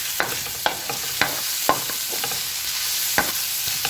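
Garlic and square-cut ham sauté in a pan, a steady close sizzle broken by sharp clacks of a spoon stirring against the pan about every half second to second, no talk.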